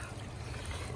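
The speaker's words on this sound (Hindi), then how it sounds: "मैं कोल्ड शावर ले रहा हूँ, ठंडा पानी" Cold water from a shower in Canada runs in a steady, fairly quiet rushing stream, with no other sound over it.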